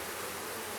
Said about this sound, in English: Get off there, bees.